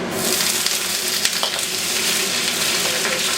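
Garlic and bok choy stems sauté in a hot pan for a chicken stir fry, giving a loud continuous sizzle with occasional light scrapes as the pieces are moved around, no voices.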